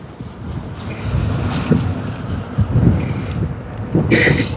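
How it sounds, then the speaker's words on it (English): Wind buffets the microphone while riding an ebike outdoors, a loud irregular rumble with gusting bursts and fluctuating swells throughout. "it's windy as fuck today too, so hopefully that nice mic that we got is blocking the wind"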